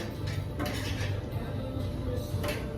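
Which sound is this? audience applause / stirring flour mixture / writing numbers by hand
stirring flour mixture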